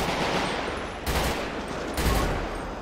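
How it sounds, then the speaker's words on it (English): Gunfire from a shootout in GTA 5 during an airport patrol, two heavy bursts of rifle shots cracking close and loud over a constant din of background noise. "Oh, shots fired."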